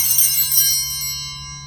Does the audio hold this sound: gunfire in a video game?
no